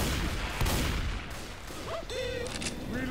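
Gunfire in Left 4 Dead 2 bursts through an elevator, a dense volley of sharp shots at first that thins into scattered cracks, mixed with game tones and a faint voice.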